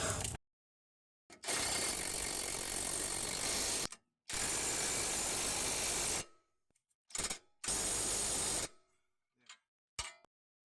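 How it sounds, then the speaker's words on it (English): Ratchet or power tool tightening sway bar link bolts on a Toyota Corolla: several loud, sustained mechanical whirring bursts of a few seconds each, separated by abrupt silences, with brief clicks at the end, close up and without speech. "now we can torque everything down."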